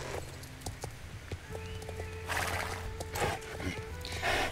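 A horse in the video game Star Stable Online whinnies and its hooves clip-clop in short bursts, with several neighs and hoof knocks close by amid faint background noise.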